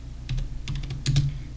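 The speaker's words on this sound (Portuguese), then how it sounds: "digitando Source" A few quick, crisp keystrokes land on a computer keyboard as a Linux command is typed, close and clear against a steady low hum, with no speech.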